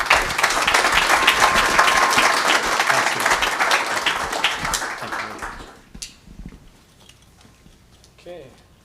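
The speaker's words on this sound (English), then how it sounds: "Let's give them a round of applause." At a blockchain community meetup, the audience gives the speakers loud, dense applause for about five seconds. The clapping then thins out into a few scattered claps and goes quiet, with faint voices toward the end.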